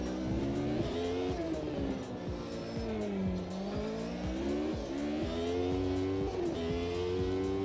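A race car in a racing video game accelerates hard, its engine note climbing and dropping through gear changes in a continuous loud roar with tyre squeal layered underneath.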